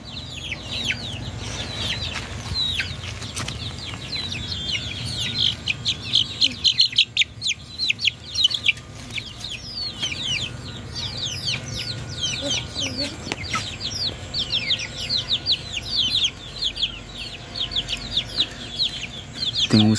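Chickens and chicks on a small farm cluck and peep steadily while being fed leftover rice, a dense, close chorus of chirps and clucks throughout, with someone talking at times.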